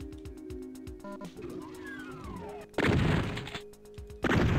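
Gunshots from the classic shooter Doom: a couple of heavy, loud blasts land near the end, after a stretch of rhythmic mechanical clatter and a faint descending whine, with a voice murmuring faintly underneath.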